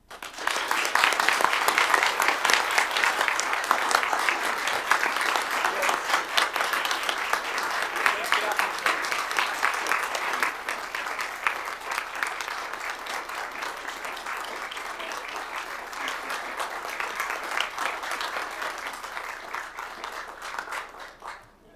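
Sustained audience applause fills a county commission meeting room, loud and steady for about twenty seconds before tapering off at the end.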